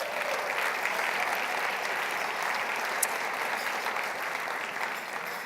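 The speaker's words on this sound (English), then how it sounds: "Big round of applause for Brandon Marshall." Audience at a Kennedy Forum event applauding, dense steady clapping filling the room throughout, loud and continuous with no speech over it.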